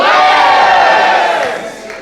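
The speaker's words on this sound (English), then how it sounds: "On the count of 3, please yell, players." A live audience shouts a single word together at a spooky-themed stage event, a loud massed crowd yell that holds and then fades away over about two seconds.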